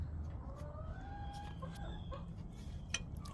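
Molting backyard chickens clucking during morning chores, several short calls and a drawn-out squawk rising over a steady low background rumble, fairly close.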